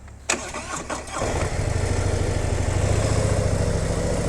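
A Dr. Jekyll & Mr. Hyde motorcycle engine cranks and catches after about a second, then settles into a steady, muffled idle with a soft exhaust note in its quiet exhaust mode.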